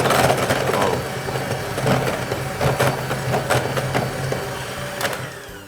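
Electric mixer creaming powdered sugar on low speed, a continuous close whir with rhythmic scraping and clattering pulses from the beaters against the bowl, fairly loud, no voices.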